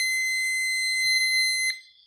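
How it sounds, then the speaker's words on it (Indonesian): A car parking sensor emits a steady, loud electronic tone that holds for nearly two seconds before dropping away, with a brief low knock partway through. "Ini kalau ada sesuatu yang dekat dia langsung bunyi."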